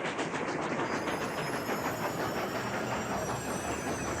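A train rolling along with a steady rhythmic clatter and rumble, faint high whistling tones drifting above.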